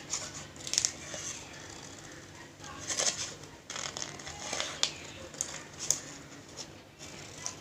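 Scissors snip paper for a craft project in short, crisp cuts at an irregular rhythm, close and fairly quiet over a soft room background.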